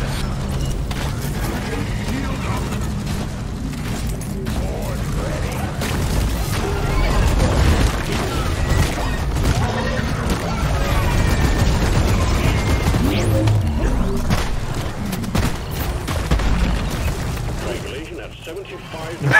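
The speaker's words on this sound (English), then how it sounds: "The sentry gun is just continuously shooting nonstop." A sentry gun fires nonstop during chaotic Deep Rock Galactic gameplay, producing a dense, continuous mechanical rattle of shots and blasts mixed with other game noise, while a voice can be heard over it.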